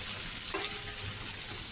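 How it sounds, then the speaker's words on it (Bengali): Bitter gourd fries in a pan over a low gas flame, giving a steady soft sizzle, with one brief scrape or clink of stirring partway through and no talking. "গ্যাসটা একটু আস্তে করে করেই ভাজছি"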